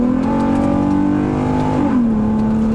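A Nissan G35 coupe with a Borla exhaust accelerates hard from inside the cabin, its steady droning engine note climbing, briefly dipping at a gear change, then pulling on again, loud and continuous.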